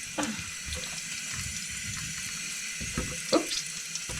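Water runs steadily from a tap while soap offcuts are lathered for a test, with a couple of brief splashes and clinks over the continuous flow.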